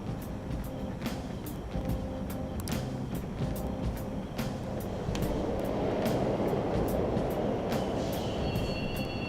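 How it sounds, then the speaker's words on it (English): Subway trains run in the Persona 5 Royal video game, giving a continuous rumbling roll with regular metallic clicks, a brief wheel squeal and a rising roar toward the end. "trains are totally running."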